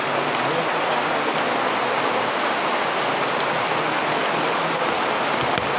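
Heavy rain pours down in a dense, steady hiss that stays loud and unbroken throughout.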